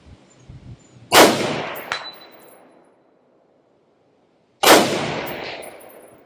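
Two loud, sharp rifle shots from an Aero Precision M5 .308 AR10 with a Ballistic Advantage barrel fire about three and a half seconds apart outdoors, each ringing out with a long decaying echo and a quiet gap between.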